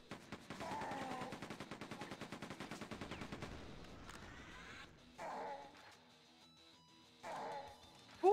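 Rapid gunfire in Quake II rattles in a fast, steady burst for about four seconds, then breaks into shorter separate blasts and bangs, fairly close and with no talk over it.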